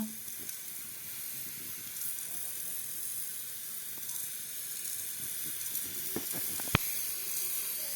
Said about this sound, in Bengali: গোলমরিচ পাঁচফোড়ন সব একসাথে দিয়ে ভেজে নেব